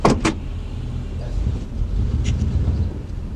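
A 1991 Chevrolet Suburban truck drives along with a steady low engine rumble and road noise, opening with a couple of sharp clicks, and no one talking.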